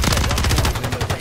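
Rapid gunshots ring out in Call of Duty on Rebirth Island, a quick run of punchy single-fire bursts through the whole moment, loud and close.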